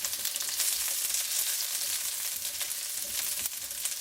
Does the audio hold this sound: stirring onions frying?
yes